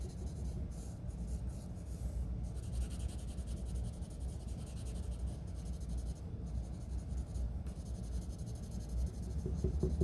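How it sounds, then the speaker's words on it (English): Graphite pencil shading around the eyes of a drawing on paper, a quiet continuous scratchy rub with small shifts in pressure, heard close and alone. "I'm going to do a little bit more graphite around the eyes themselves. So pressing harder and then gradually blending it out."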